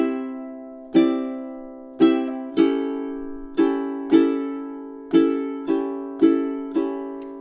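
A ukulele plays two measures of a song as a steady strummed pattern of about ten crisp strokes, close and unaccompanied, each ringing chord fading before the next.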